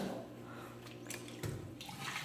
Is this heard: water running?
yes